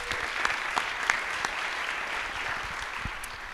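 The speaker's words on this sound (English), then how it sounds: "so please, a round of applause for them" An audience applauds volunteers running the audio-visual setup at a chamber of commerce community gathering: dense, even clapping that holds steady and moderately loud throughout, with a few sharper individual claps standing out.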